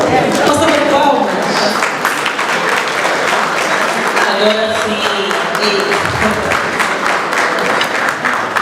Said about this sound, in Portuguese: Posso dar palmas?